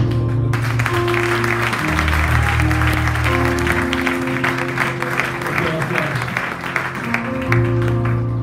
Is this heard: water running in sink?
no